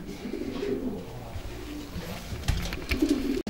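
Racing pigeons in a loft coo softly and repeatedly, low throaty burbling calls close by with some rustling and shuffling, no talk over them.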